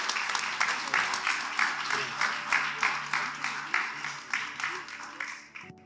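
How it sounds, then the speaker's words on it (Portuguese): A church congregation at a Sunday service applauds, producing a steady wash of clapping with rhythmic surges over about six seconds while some voices carry through. "Vamos aplaudir Jesus?"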